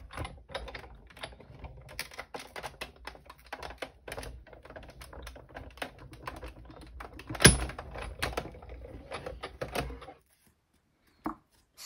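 A craft card and foil running through a Spellbinders Betterpress hot foiling machine, giving a close, irregular run of small clicks, ticks and mechanical clatter with one louder knock, then stopping into silence.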